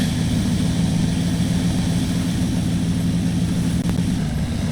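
An off-road truck engine in the video game SnowRunner drones in a loud, steady low rumble with a constant engine hum throughout, close and uninterrupted, with no talking.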